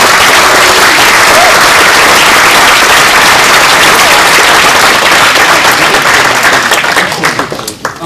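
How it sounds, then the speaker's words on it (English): A large audience applauds at a presentation event, loud, dense clapping that holds steady for several seconds, then thins out and fades near the end, with voices mixed into the crowd noise. "a round of applause for all the people who helped put this on and all the people who sponsored"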